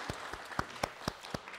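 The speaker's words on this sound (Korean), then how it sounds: "하나님께 영광의 박수 올리겠습니다" Sparse, faint handclaps from a Korean church congregation at a Sunday worship service, about seven spaced claps in a steady rhythm with little else around them.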